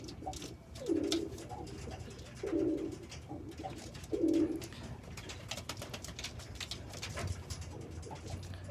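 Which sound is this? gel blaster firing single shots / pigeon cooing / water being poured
pigeon cooing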